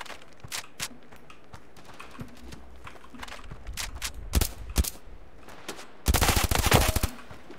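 Gunfire from a weapon in the shooter game Standoff 2, with scattered single shots early on, louder bursts around the middle, and a dense rapid automatic burst near the end.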